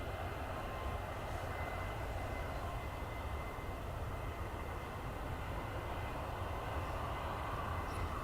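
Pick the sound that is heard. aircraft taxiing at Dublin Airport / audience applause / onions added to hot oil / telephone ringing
aircraft taxiing at Dublin Airport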